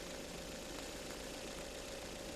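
Carbureted petrol engine idling while its idle speed screw is adjusted, a faint, steady low hum with an even mechanical rumble throughout and no voices.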